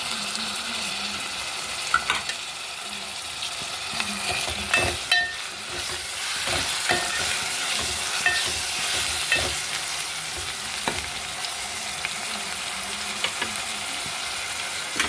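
Curry leaves and chopped tomato fry in hot oil for an Andhra-style taro root tamarind curry. A steady, close sizzle continues throughout, with occasional stirring scrapes and clinks and no speech.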